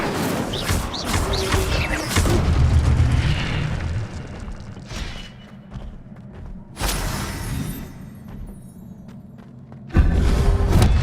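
Fire spell cast in Hogwarts Legacy on PS5, heard as a series of booming, bursting magical blasts with whooshing bursts separated by quieter stretches, loud and close, with no talk.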